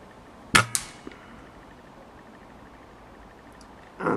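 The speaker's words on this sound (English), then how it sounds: "So I'm shooting at the backstop." A single sharp gunshot is fired over a chronograph at a backstop, with a second crack and a faint tick following close behind, then quiet room tone and a brief rustle near the end.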